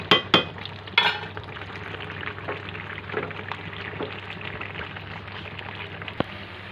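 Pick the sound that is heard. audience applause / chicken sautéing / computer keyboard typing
chicken sautéing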